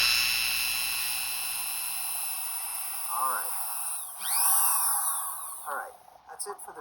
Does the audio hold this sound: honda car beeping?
no